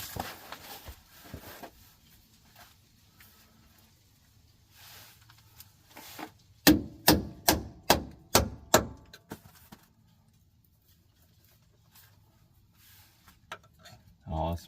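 A broken Craftsman screwdriver used as a punch is struck with a hammer during a Dana 70 Power-Lok differential rebuild, giving six sharp metallic blows in quick, even succession after quieter shop clatter and talk.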